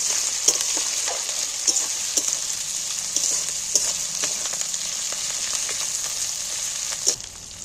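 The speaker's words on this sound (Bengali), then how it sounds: "এবার আমি কাঁচা লঙ্কা আর ক্যাপসিকাম লঙ্কা দুটোকেই তুলে দিই।" Green chillies and capsicum fry in a pan for a chilli fish dish, giving a steady close sizzle with scattered light clicks and taps of stirring throughout.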